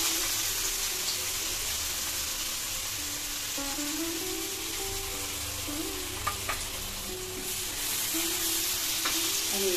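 Chopped onion sizzles steadily in two spoons of hot oil with asafoetida for a Mumbai street-style pav bhaji, a continuous close frying hiss with occasional stirring clinks and no talk.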